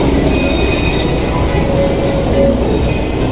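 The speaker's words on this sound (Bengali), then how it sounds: "আমাদের টয় ট্রেন এসে পৌঁছেছে গয়াবাড়ি স্টেশনে" Darjeeling Himalayan Railway toy train pulling into Gayabari station, a dense close rumble of wheels and carriages with faint squealing metallic tones running throughout.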